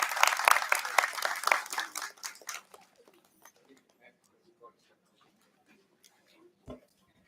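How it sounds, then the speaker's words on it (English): Audience applause in a hall at a heritage management event, starting as dense clapping and thinning over a few seconds to scattered claps before dying away. "May I request everyone to give a huge round of applause for Sir,"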